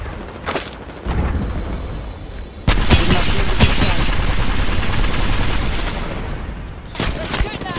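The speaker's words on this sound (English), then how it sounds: "They're shooting at me." Gunfire in the video game Apex Legends, a dense burst of rapid shots and booms that lasts several seconds, loud and close, with quieter game sounds before and after.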